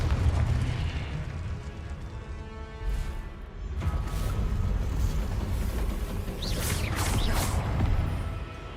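Confringo blasting-spell explosions in Hogwarts Legacy, a steady roar of booming, crackling bursts lasting the whole stretch, with sharper whooshing pops in the last few seconds.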